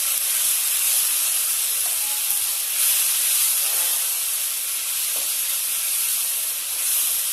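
Cumin powder, salt and spices sizzling in a pan for Bengali-style rohu fish curry, a steady, close, loud hiss with no talking.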